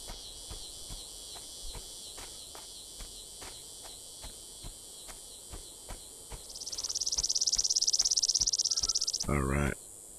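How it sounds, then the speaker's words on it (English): In the video game Betrayer, steady insect chirping pulses in a regular rhythm throughout, joined by a louder buzzing cicada drone that swells midway, then cuts off abruptly. "I hear cicadas."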